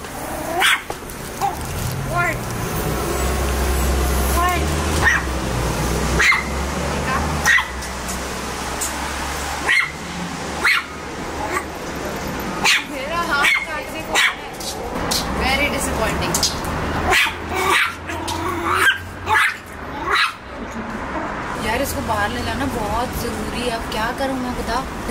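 A small French bulldog barks repeatedly in sharp bursts, close by, over steady background noise and a person talking.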